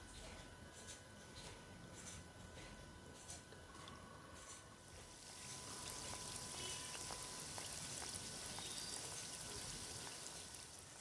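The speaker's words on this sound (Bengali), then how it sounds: "এখন দেখুন বিস্কিটগুলো কিন্তু আস্তে আস্তে ভাজতে শুরু করে দিয়েছে" Potol biscuits made from flour fry in oil over a low flame, giving a steady, fairly faint crackling sizzle that grows busier and brighter partway through and continues without a break.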